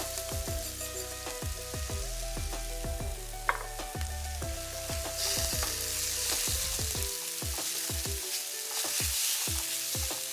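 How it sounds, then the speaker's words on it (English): Rice frying in sofrito for a seafood paella, with a bright steady sizzle and crackle over a background hum that drops away partway through, leaving the frying alone. "It's time for the rice to meet the sofrito."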